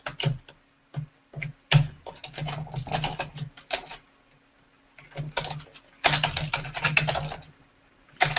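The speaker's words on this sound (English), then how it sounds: "Just let me type this back in." Fingers type on a computer keyboard in quick, uneven bursts of clicking keystrokes separated by short pauses, close and clear with no talking.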